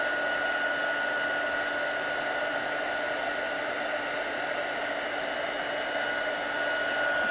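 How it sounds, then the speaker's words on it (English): A heat embossing tool blows hot air in a steady, even hum with a constant high whine, close and unbroken throughout, with no talking over it. "Don't need to be waving the heat tool all over the place, just want concentrated"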